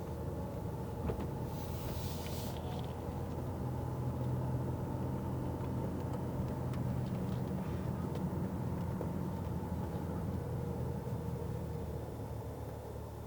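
A Fisker Karma electric car drives with a steady, spacey hum and whine heard from inside the cabin. A low drone and road rumble hold evenly throughout, with no voices.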